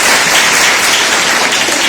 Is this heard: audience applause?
yes